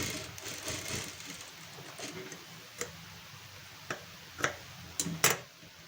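A sewing machine stitches a prince-cut blouse, a low running hum broken by sharp ticking clicks that grow louder toward the end.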